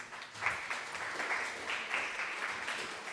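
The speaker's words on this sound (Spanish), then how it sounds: "Un aplauso, por favor." Audience applause at the close of a talk, a steady wash of clapping from a roomful of people that holds evenly for about three seconds with no voices on top.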